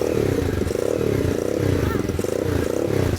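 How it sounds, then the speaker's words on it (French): A motocross motorcycle engine idles and revs in a steady, throbbing rumble close by, with people talking over it throughout. "Ziné allait faire un petit tour de motocross"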